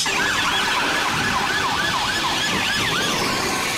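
A police car siren wails loudly and continuously with a rapid rising-and-falling yelp over traffic rumble, with no voices.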